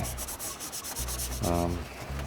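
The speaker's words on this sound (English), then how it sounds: "I'm going to finish sanding this" Close, rhythmic sanding strokes rub back and forth across a thick aluminum Honda Civic EM1 Si wheel at a steady pace, with one brief harsher pass partway through.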